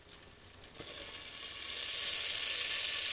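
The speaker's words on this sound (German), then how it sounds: "Also die Butter zerlaufen lassen, dann geben wir das Mehl dazu." Melted butter and flour being stirred together in a pot for béchamel sauce, a soft sizzle rising to a steady, fairly quiet frying hiss.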